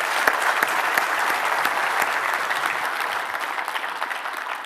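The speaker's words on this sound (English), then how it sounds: "let's give them another round of applause" An audience at a conference session applauds steadily, dense clapping at a fairly loud level that fades slightly toward the end, with no talking.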